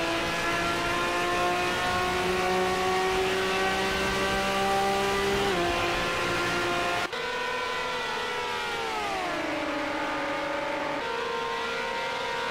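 Lamborghini race car engines in the racing game Automobilista 2, loud and steady throughout: a sustained high engine whine that holds, drops sharply mid-way, then sweeps down and settles again, with no talk over it.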